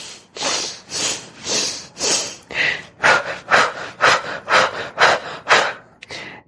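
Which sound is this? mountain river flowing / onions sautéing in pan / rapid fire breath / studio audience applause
rapid fire breath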